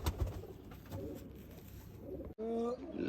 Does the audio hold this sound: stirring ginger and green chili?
no